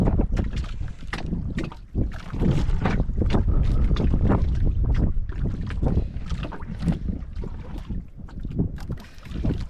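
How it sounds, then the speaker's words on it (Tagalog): Strong wind buffets the microphone continuously, with rushing gusts over a boat's steady rumble on open water; no talking. "mahangin pa rin"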